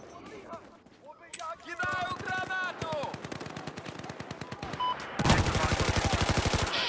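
MG4 machine gun in Battlefield 4 rattling off rapid automatic bursts, loud and close, with a heavier sustained burst near the end; a voice talks briefly over the early part.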